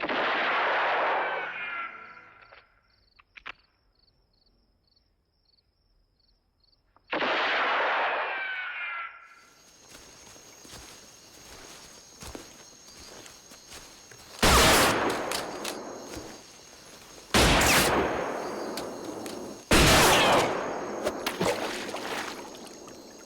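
Gunfire trick shots in Johnnie To's film Exiled: several sharp, loud bangs burst out in the second half over a low ambient bed, after earlier quieter clangs and noises, with no speech.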